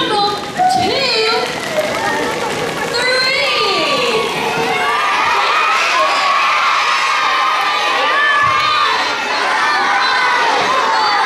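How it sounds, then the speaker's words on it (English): A group of children shout together at full volume in a crowd, a sustained loud cheering roar that lasts throughout with whoops rising above it. "we're going to yell it as loud as we can"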